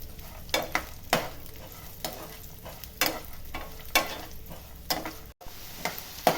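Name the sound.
coconut and dal being sautéed in ghee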